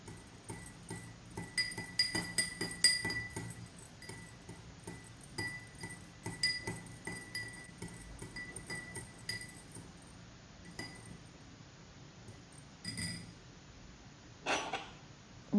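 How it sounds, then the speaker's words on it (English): A spoon stirs green beans in a glass, giving a quick run of bright clinks and taps against the glass that thin out into sparser knocks, close and fairly quiet. "Next, stir the green bean in glass B."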